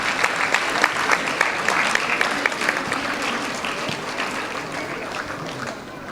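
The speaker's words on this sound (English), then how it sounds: "Please give a big round of applause." Sustained applause from an audience at a school annual day as a pupil is called up, dense overlapping claps that stay loud for several seconds before gradually thinning.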